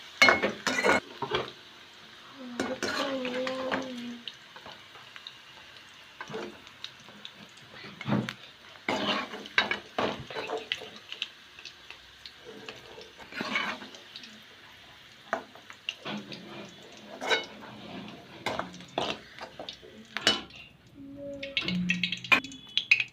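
Fried bhindi (okra) being scraped and moved from a frying pan onto a plate, with intermittent clatters and scraping taps of a spatula against metal, a faint sizzle underneath, fairly close and uneven in rhythm.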